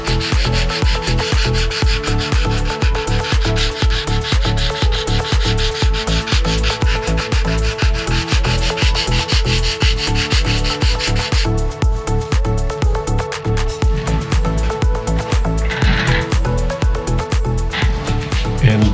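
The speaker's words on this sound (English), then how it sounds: "This is a used 220 sanding sponge." A used 220-grit sanding sponge rubs back and forth over a small wooden carousel horse being repaired for a crack, giving a loud, steady run of quick rhythmic scrubbing strokes close up, lightening slightly near the end.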